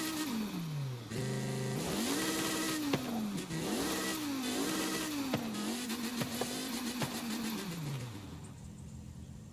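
Car engine in Forza Horizon 5 revving on its own with no throttle input while the car is stuck, a continuous loud rise and fall of pitch through several swells before easing off near the end.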